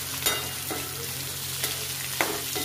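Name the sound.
chicken and sliced onions frying in oil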